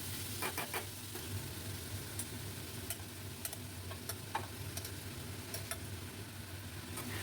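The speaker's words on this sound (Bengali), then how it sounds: "হালকাভাবে খুব ভালো করে মিশিয়ে নেব।" Boiled rice and chopped capsicum being stirred in a pan, a faint sizzle under light, irregular scraping and tapping of the spatula against the pan.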